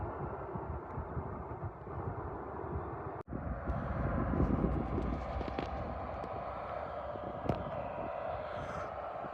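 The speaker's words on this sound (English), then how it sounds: "The engine just started on the plane" A plane's engine spins up at Leeds Bradford Airport, a steady broad roar heard from a distance, holding level throughout with a sharp knock near the middle.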